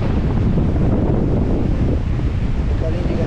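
Strong wind and rain batter an open-water fishing spot, with heavy, continuous wind buffeting the microphone in a dense, loud roar.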